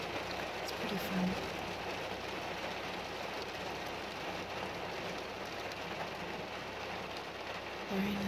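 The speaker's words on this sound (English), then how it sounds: "The rain has already died down" Steady rain pours down during a brief rainstorm, a dense even hiss of drops on surfaces that continues without a break throughout, with no talking.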